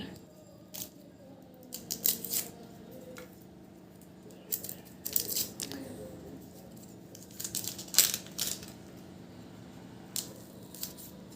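Two small onions are peeled by hand, with faint, close, scattered papery crackles and rustles of skin coming in short irregular bursts over a quiet background.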